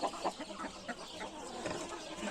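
A famous white fighting rooster clucks in short repeated bursts, faint against a steady hissing background.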